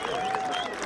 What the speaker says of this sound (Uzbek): Palvonlarni bir olqishlab qo'yaylik